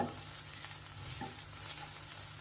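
Havyaka-style ingredients frying in a pan, a steady soft sizzle and crackle with faint stirring, quiet and continuous throughout with no voices.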